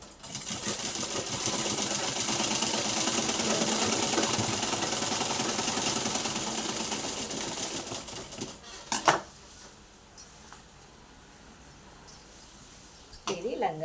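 A sewing machine runs steadily for several seconds stitching a silk skirt, then stops, followed by scattered handling clicks and rustles as someone talks.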